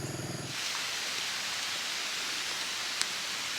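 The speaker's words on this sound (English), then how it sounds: "As you can see, it started raining now." Rain falls on a hilly road near Nai Yang during a ride, a dense, steady, close hiss that sets in after a brief moment and continues evenly, with one small tap near the end.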